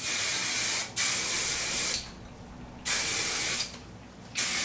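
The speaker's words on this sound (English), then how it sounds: "It's like a finishing spray, but it still gives it some texture." Medium hold hairspray hisses from an aerosol can onto hair in three long, loud bursts separated by short pauses, close to the listener with no speech.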